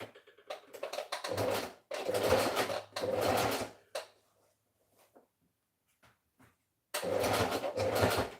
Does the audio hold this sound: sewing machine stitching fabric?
yes